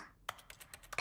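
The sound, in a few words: computer keyboard typing in the video game The Stanley Parable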